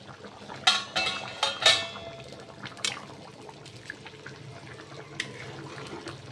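A metal lid comes off a pot of tuna fish curry with a few sharp clanks, followed by softer scraping and clinking as a spoon stirs it, close by in a kitchen.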